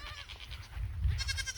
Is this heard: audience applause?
no